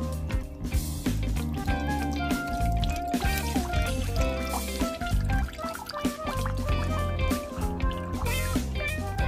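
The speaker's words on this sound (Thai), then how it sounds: "จากนั้นเราก็เทน้ำออกก่อนค่ะ" Coconut water pours out of a pierced coconut, with steady splashing, dripping and gurgling that stays close and fairly quiet.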